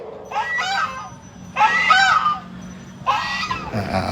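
A goose on a farm honks loudly and close by in three drawn-out, nasal calls separated by short pauses, with a low background rumble underneath.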